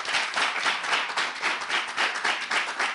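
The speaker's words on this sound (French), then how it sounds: "On la raccompagne avec des ovations, s'il vous plaît." A theatre audience applauds in steady, dense clapping that sounds close and moderately loud. The clapping keeps an even, pulsing rhythm and carries no talk.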